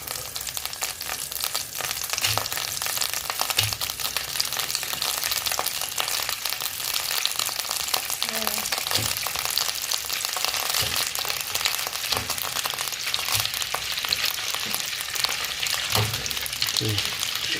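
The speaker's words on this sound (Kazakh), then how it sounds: "Енді қазір сосискамызды салып қуыратын боламыз." Sausages frying in butter in a pan give a steady, close sizzle that runs throughout with small crackles, while faint voices are heard briefly.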